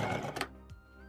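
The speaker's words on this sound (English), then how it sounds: "So head to the sewing machine, do a little back stitch to secure your thread" A sewing machine runs a short back stitch to secure the thread on a pair of pants, giving a brief rapid mechanical whir close by that stops after about half a second, followed by a faint click.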